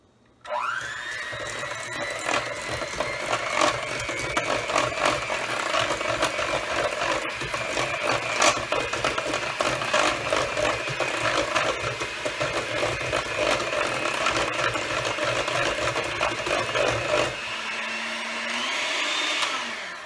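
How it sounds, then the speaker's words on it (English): An electric hand mixer beats chocolate chip banana muffin batter, running as a steady, loud motor whine for about twenty seconds with a slight pitch shift near the end, with no talking. "now you want to take your mixer, it's going to be a little loud"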